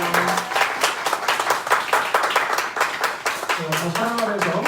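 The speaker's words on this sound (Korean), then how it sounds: "우리 환영의 박수 하겠습니다" A congregation at a church Sunday service claps warmly in a sustained burst of welcoming applause, with a voice speaking briefly at the start and again near the end.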